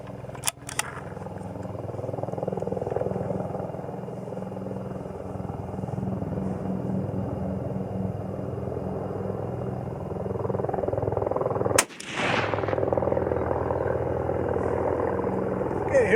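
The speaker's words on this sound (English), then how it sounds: "Okay, some military helicopters went over" A steady low rotor drone of military helicopters passing overhead, rumbling for a long stretch, with a couple of sharp clicks near the mic.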